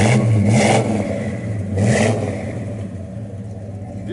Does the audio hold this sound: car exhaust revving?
yes